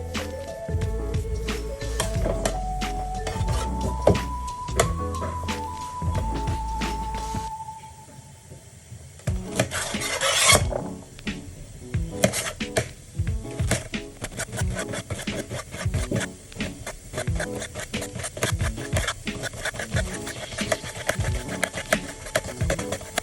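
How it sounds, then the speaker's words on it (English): Fresh okra being sliced by hand with a knife for Nigerian Ofe Okwuru soup: after a short musical tune fades, a steady run of quick, close, soft chopping taps against a board continues with no talking. "the main job when cooking Ofe Okwuru is to cut the okra"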